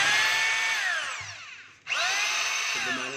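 DeWalt D25032 rotary hammer running: a close, loud electric motor whine that spins down, briefly drops out, then revs straight back up to a steady high-pitched drone, with no voices.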